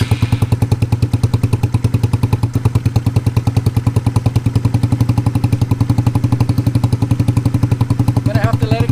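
A Honda Ruckus scooter engine, freshly rebuilt with new carburetor jets, cranked over and idling with a loud, steady, fast-pulsing putter up close, as a faint voice comes in near the end.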